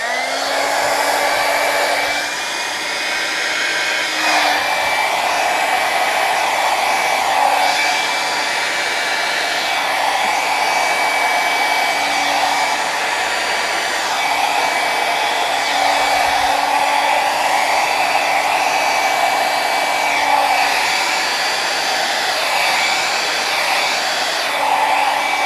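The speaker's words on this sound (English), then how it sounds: "Try not to go over it more than once with the blow dryer" A blow dryer roars steadily and loudly at close range over poured paint for the whole stretch, its airflow barely changing, with no voices.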